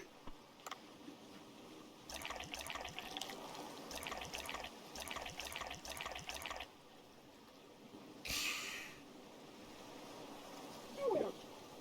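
Beer is poured in the video game Dave the Diver, heard as a faint, quiet stream of liquid trickling and splashing in short bursts, with a few small clinks and game sounds.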